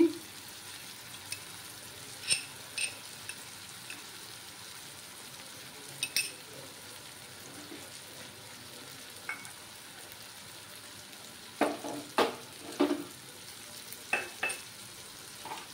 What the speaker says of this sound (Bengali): মশলাগুলো ভালোভাবে কষিয়ে নিতে হবে